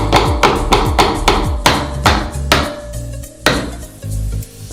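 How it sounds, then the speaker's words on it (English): Sharp metallic hammer taps on vice grips clamped on a door hinge pin, about a dozen quick strikes in an uneven rhythm, loud and close, with ringing tails. "I'm just gonna lightly tap on the vice grips themselves."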